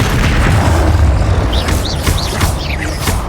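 Fiery Confringo spell blasts in the Hogwarts Legacy video game, a dense booming explosion rumble with sharp whooshing chirps layered over it, loud and continuous through the short stretch.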